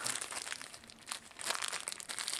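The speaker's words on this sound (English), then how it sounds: "So we'll just take that piece of bubble wrap off and we'll just undo this plastic bag." Bubble wrap being pulled off and a plastic bag being undone around a boxed Thomas Cook display stand for a model Airbus A330, giving close, quiet crinkling and rustling in uneven bursts with no talking.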